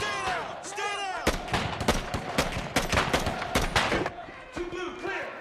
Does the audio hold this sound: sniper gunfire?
yes